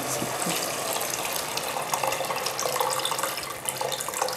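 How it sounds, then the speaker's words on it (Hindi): Yakhni stock poured into browned meat in a pot while making a quick pulao, a steady liquid gushing and splashing that runs continuously at close range without talk. "गोश्त भुन चुका है, अब इसमें यखनी डाल दें।"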